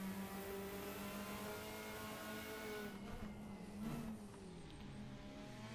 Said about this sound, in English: Have a listen to this turbo spool up.